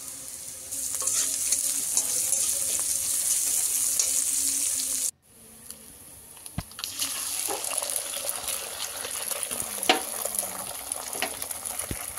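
An egg hits a hot pan of vegetables with ginger, turmeric, salt, cumin and garam masala and bursts into loud, steady close sizzling. It is cut by a brief pause, then the frying resumes with scattered crackles and stirring.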